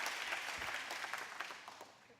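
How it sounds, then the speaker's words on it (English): A small crowd claps for Pastor Martin at a food bank campus ribbon-cutting ceremony in Canton, Ohio; steady, fairly faint applause of scattered hands fades slightly over a couple of seconds. "Can we get a round of applause for Pastor Martin?"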